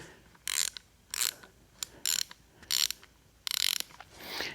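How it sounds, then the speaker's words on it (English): A ratcheting wrench, a combination wrench with 19 and 17 sizes, clicks in six quick bursts of rapid pawl ticks, close and loud against quiet pauses, with no talking. "And listen to the click from this thing, okay?"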